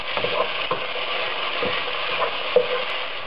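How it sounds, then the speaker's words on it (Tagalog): Almondigas with fish sauce and beef cube are stirred in a frying pan. A steady sizzle of frying sits under several soft scraping strokes of the utensil against the pan, with no talk. "And stir lang natin ito sandali ulit."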